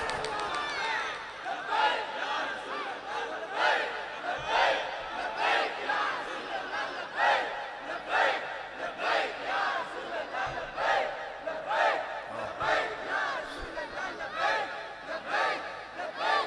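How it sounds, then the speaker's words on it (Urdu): Large crowd at an outdoor religious gathering in Dhoke Sydaa, Rawalpindi, shouting Labbaik slogans in repeated loud rhythmic bursts, a roar of many voices rising and falling roughly every second for the whole stretch. "پہلے 5 باری لبیک دے نعرے مارو"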